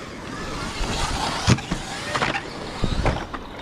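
An Arrma Mega brushless RC car spins its wheels, with short bursts of motor whir and scrabbling surges, several spaced spikes over a low background.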